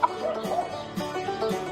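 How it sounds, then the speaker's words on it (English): Chickens on a prairie homestead, a rooster among his hens, give soft, close clucks in short repeated bursts over about two seconds, with no talk. "I like to have a rooster around because those roosters tend to kind of guard their little hens."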